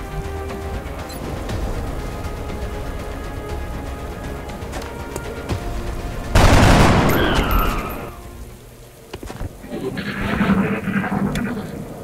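A squad in the XCOM video game opens fire at an enemy on command, a dense burst of loud gunshots that follows a stretch of background game ambience and then trails off into quieter effects.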